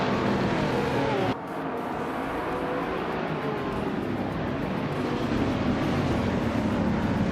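Race cars roar steadily in a racing video game as one overtakes another, engines droning loud and continuous with a brief dip partway through, then a sustained rushing pass.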